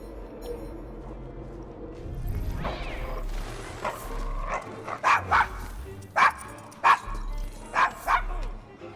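A dog barks in Assassin's Creed Syndicate, a few sharp, fairly close yaps and woofs in a loose rhythm after some low rustling, with faint background game ambience.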